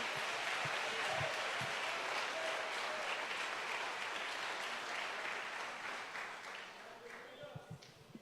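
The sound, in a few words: congregation applauding in church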